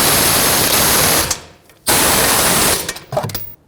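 A power ratchet runs down the brake caliper bolts on a 2003-2008 Toyota Corolla, two loud whirring bursts of about a second each, close up and separated by a short pause.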